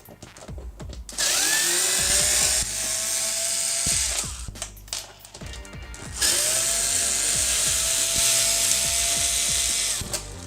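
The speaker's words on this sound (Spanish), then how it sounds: "En este caso yo voy a utilizar una T10 con un destornillador eléctrico." An electric screwdriver with a T10 bit spins out screws from an Xbox One S, two long whirring runs close up, with motor pitch sliding as each screw loosens and brief clicks in between.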